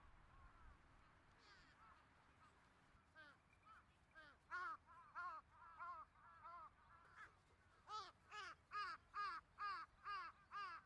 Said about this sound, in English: I could hear the sound of birds chirping on the power lines